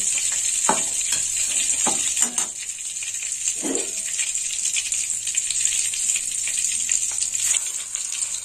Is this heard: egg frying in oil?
yes